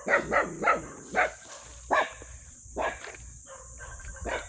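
Several dog barks in quick bursts, fairly distant and faint, with a few more scattered barks over a low background hum.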